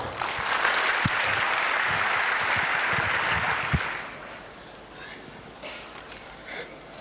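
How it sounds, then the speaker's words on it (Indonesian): Loud, dense applause from a crowd fills the first four seconds, then fades into quieter room noise with a few scattered claps. "Tepuk tangan buat Tuhan kita"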